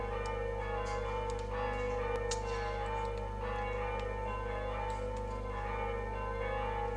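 Church bells from a nearby church ring steadily over a constant low hum, with repeated tolling strikes and no voices.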